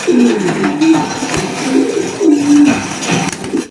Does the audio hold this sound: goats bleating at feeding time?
no